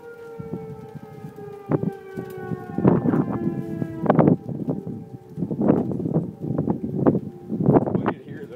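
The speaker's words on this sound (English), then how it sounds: "Sirens are going off." Tornado warning sirens wail in Oklahoma, a steady rising-and-falling civil defense tone held in the background, while people talk and thumping noises occur intermittently nearby.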